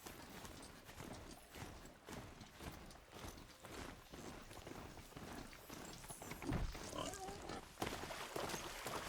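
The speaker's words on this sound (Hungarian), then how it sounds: "Hogy nem halt az a malac?" A pig in Horizon Zero Dawn grunts among repeated clip-clop hoofbeats and footsteps, with a dense, continuous game soundscape throughout.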